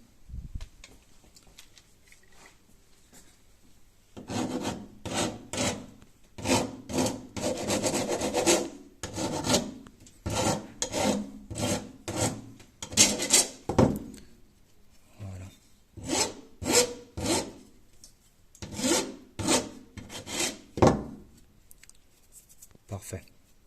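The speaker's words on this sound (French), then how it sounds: "je prends ma petite lime à métaux" A small metal file rasps back and forth on a freshly cut part from a manual roller-shutter crank handle, in quick rhythmic strokes grouped in bursts with brief pauses, close and crisp.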